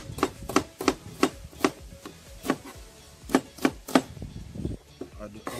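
An onion is chopped with a knife on a board, giving a sequence of about a dozen crisp, close knocks in uneven bursts with short pauses between.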